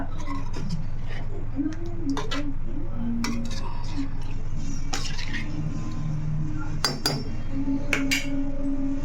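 A spoon stirs taro (colocasia) curry in a pan, giving scattered metallic clinks and scrapes over a steady low kitchen hum, with faint talk in the background.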